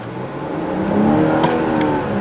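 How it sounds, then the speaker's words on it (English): A 2019 BMW X7 xDrive40i engine pulls hard under acceleration, a steady rising drone heard from inside, swelling slightly louder through the middle with no talking. "Wow, that was some great accelerations."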